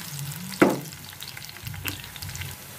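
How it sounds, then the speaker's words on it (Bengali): Chopped onion fries in oil in a pan with a soft, steady sizzle, broken by one sharp clank of a utensil and a few lighter stirring knocks. "পেঁয়াজ কুচিটা আমি ভেজে নিব।"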